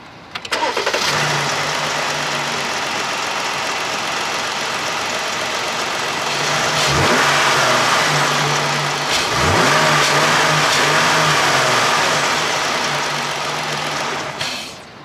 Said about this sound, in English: This is Jeep's Pentastar V6. It's been around a long time. Let's hear it run.